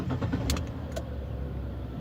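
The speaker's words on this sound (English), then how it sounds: "I'm just going to start my engine up a minute." A car engine starts up on a cold day, with a brief cranking burst followed by a low, steady idle rumble, heard close up from inside the vehicle with no talk.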